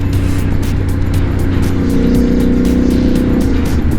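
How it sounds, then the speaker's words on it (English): Steady, loud exhaust drone from a Triumph Scrambler 1200 parallel twin with 270-degree crank, revving hard nearby with a gritty, pulsing rasp and no talk over it. "Beautiful, beautiful exhaust note."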